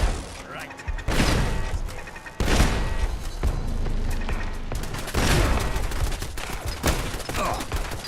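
Turrets firing in the video game Fallout London, with dense bursts of rapid gunfire and heavy booming blasts in several waves under game audio, with a voice talking over them.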